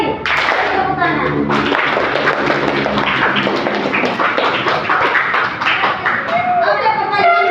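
Sixth-grade elementary classroom children clap their hands together in a steady burst of quick, close claps, mixed with continuous children's voices chattering and calling over the clapping throughout.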